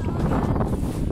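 Wind buffets a handheld microphone high in the mountains, a short burst of loud, low rumbling gusts with no speech.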